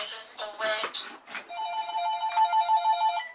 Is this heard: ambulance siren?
no